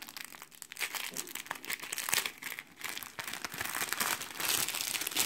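Crinkly plastic packets of beads being handled and opened, with close, irregular rustling and crackling that rises and falls in bursts throughout.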